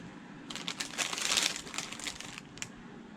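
Scissors cutting across strands of crochet yarn, giving a short flurry of close, soft crisp snips and rustles, with one last small snip after a pause.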